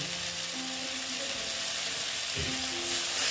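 Small tengra fish fry in a pan with potatoes and eggplant, producing a dense, continuous sizzling hiss that stays steady and close throughout, with no voices.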